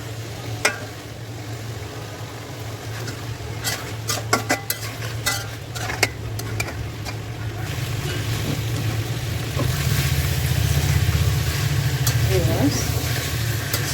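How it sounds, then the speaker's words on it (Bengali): Snakehead fish and potatoes gently stirred and fried in a pan, with scattered utensil scrapes and clinks over a steady sizzle that grows louder and denser toward the end; no talking. "খুবই আলতোভাবে নাড়া দিয়ে শোল মাছ ও ললিতা আলুগুলো আমি কষিয়ে নেব"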